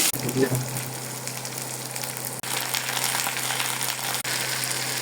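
Cumin and garlic fry in a pan with a steady, close hiss of sizzling oil that continues through the clip, with a couple of brief clicks or gaps.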